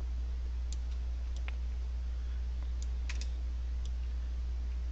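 Computer keyboard keys pressed for a shortcut in Photoshop, a handful of quiet, sparse clicks over a steady low hum, no voices.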